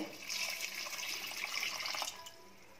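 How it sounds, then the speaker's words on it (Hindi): A litre of water is poured onto cut mango pieces in a pot, making a soft, continuous splashing trickle at close range that eases off toward the end. "अब इसमें 1 लीटर पानी डालेंगे"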